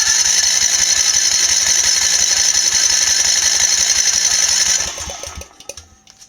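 A small HHO generator set engine runs fast in a steady rapid rattling drone, then abruptly cuts out and sputters to a stop.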